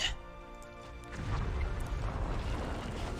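An explosion in the video game Epic Seven, a deep rolling boom that swells after a moment of ringing tones and rumbles on steadily to the end.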